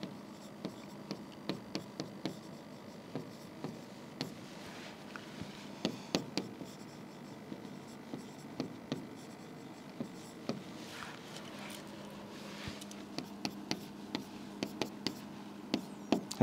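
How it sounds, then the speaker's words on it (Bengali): A pen writing on paper during a higher maths trigonometry lesson, making soft, continuous scratching strokes with small taps between them, close and fairly quiet, with no talk over it. "তাহলে আমরা এখানে লিখব"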